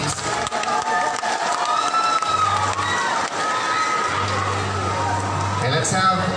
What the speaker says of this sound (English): How about a big round of applause, please?